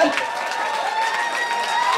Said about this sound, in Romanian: aplauze pentru dumneavoastră